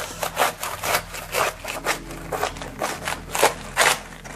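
A knife cuts through a washed cabbage to halve it for kimchi, producing close, rhythmic crunching strokes, about eight or nine rasping bursts in steady succession.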